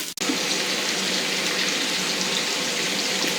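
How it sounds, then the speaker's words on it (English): Eggs pour into a pan of crisping bacon, giving a brief thump and then a continuous loud, hissing sizzle that holds steady to the end. "I'll dump the eggs in."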